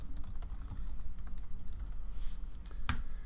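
Someone types on a computer keyboard in quick, uneven keystrokes at close range, with one sharper click near the end. No one speaks.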